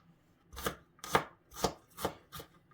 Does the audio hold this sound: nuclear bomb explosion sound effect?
no